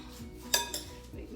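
Cauliflower potato salad being mixed in a bowl, with a couple of brief utensil clinks and scrapes against the dish over a quiet background.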